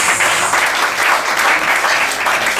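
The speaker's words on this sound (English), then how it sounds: "a mighty clap for Jesus" A church congregation claps vigorously during a sermon, a loud, dense burst of applause with a few cheers rising and falling over a couple of seconds.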